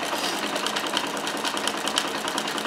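A Necchi Supernova Ultra freearm sewing machine stitches continuously at a steady, fast rhythm, loud and close, with a fine repeating clatter throughout.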